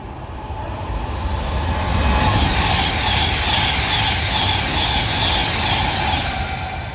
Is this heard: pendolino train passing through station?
yes